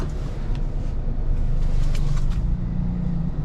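A manual car idles in reverse after the clutch is let out without any throttle, its steady low engine rumble continuous and close, with faint road noise over a rough, poorly surfaced road.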